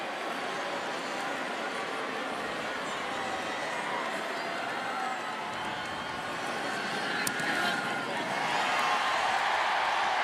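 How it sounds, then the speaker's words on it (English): A stadium crowd at an Alabama college football game cheers an extra-point kick, a broad, continuous roar that swells gradually toward the end, with faint announcer talk underneath. "a big cheer from the Alabama faithful"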